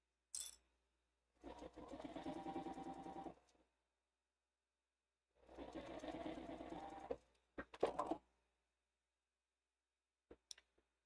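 A sewing machine stitches fabric and vinyl a quarter inch from the edge at a short stitch length, running in two steady bursts of about two seconds each, followed by a few clicks and taps from handling the machine.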